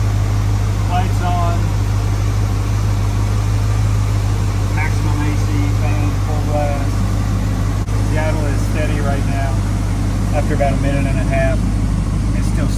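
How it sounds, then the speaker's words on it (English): A 1994 Mustang GT 5.0 V8 idles steadily with a deep, constant rumble and accessory whine, with someone talking over it close by throughout. "We're just going to let it idle here for 2 minutes."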